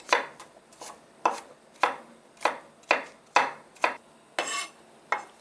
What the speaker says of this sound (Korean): 마늘은 다져서